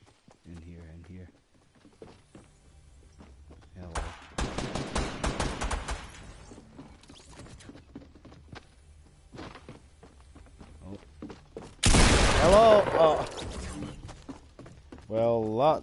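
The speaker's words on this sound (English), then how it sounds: "Oh, I hear gunfire." Bursts of rapid Fortnite gunfire at Tilted Towers crackle in two loud clusters, with footstep-like thuds and someone speaking between them.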